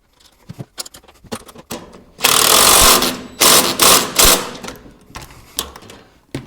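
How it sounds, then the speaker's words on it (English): An impact driver tightens a nut on a U.S. General 5-drawer tool cart: scattered light clicks and taps, then a loud rattling hammering burst lasting about a second, followed by several shorter close bursts. "I'm going to use an impact to put that on"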